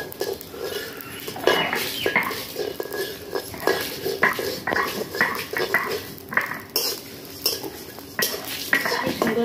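Whole spices, including nigella seeds and coriander, frying in a pan for a raw mango pickle, with frequent close metallic clinks and scrapes of stirring over a light sizzle.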